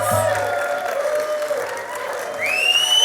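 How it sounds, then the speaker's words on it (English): Audience applause at an Aboriginal honour roll awards ceremony, a sustained wash of crowd clapping, fairly loud, with tonal music or feedback tones running through it and a rising tone near the end. "Please join me in giving her a big, big round of applause."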